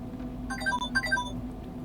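Alarm ringtone on a Samsung Galaxy A72 phone, a short melodic sequence of bright electronic tones playing clearly and fairly close, over a steady low hum.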